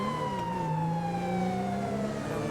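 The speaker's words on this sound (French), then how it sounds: "les gyrophares et la sirène se mettent en même temps" Police car siren in the video game GTA V switched on together with the emergency lights, a steady wailing tone sweeping slowly across the whole clip, loud and continuous with no talk over it.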